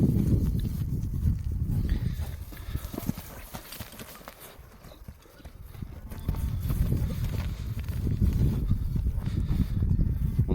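A horse walks on hard ground, its hooves clip-clopping in a steady close rhythm, fading slightly midway and then returning louder.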